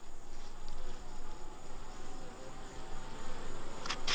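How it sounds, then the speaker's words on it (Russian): Honey bees, slightly agitated, hum around open hive frames at an apiary with a low, continuous buzzing drone that hovers steadily and faintly, with no voices over it. "Пчелки немножко агрессивны."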